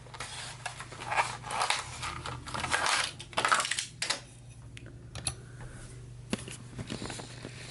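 Plastic blister packaging on a Hot Wheels 2017 Acura NSX card is torn and crinkled open close up, giving bursts of crackling, crunching plastic and cardboard with brief pauses between them.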